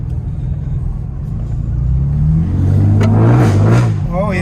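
A 2015 Chevrolet Camaro's 6-cylinder engine with aftermarket exhaust idles with a deep rumble, then revs up loudly and settles, heard close with a voice speaking briefly near the end.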